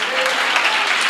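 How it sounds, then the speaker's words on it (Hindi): An audience at a Saturday live church service claps as one dense, steady burst of applause, loud and close, with a voice faintly under it. "जिसने समझा वे ही तालियां बजाएंगे।"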